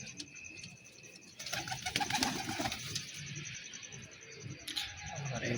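Pigeons in a rooftop loft coo softly amid rustling and occasional wing flaps, with a steady background hiss and a brief burst of louder activity midway.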